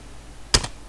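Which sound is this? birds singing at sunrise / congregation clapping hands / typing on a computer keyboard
typing on a computer keyboard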